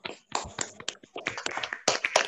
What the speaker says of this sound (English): All of you are requested to unmute and give a big clap to Joshua.